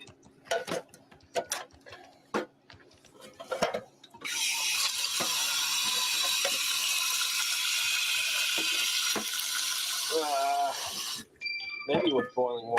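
Water pours steadily from a kitchen tap for several seconds, a loud continuous hiss in the middle of the clip, framed by clicks and handling sounds and brief talk before and after.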